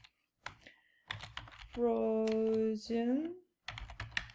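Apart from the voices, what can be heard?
typing letters on a computer keyboard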